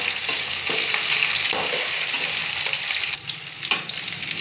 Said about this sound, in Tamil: வெண்டைக்காய் வதங்கினதும்